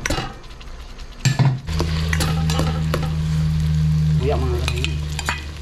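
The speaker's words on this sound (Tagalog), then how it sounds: "Nilalagay naman na natin yung bawang. Sama na itong sibuyas natin." Garlic and onion drop into plenty of hot cooking oil in a pan and sizzle steadily up close, with a few clinks and stirring scrapes at the start and a brief spoken word over the frying.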